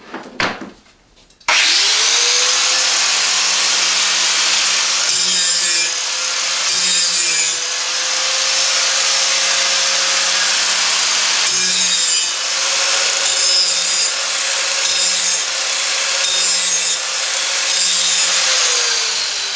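A hatchet held in a vise is sharpened with an angle grinder, the blade kept wet with water: a loud, steady, harsh grinding drone lasts the whole clip after a short quiet start, with slight dips as the pressure shifts.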